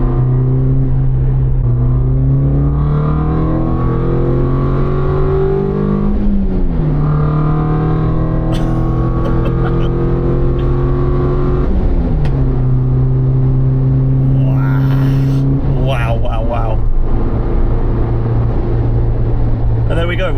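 A Suzuki Jimny engine fitted with a Forge Motorsport air intake, droning steadily and loudly as the revs climb and drop through several rises and gear changes while driving, with occasional faint clicks.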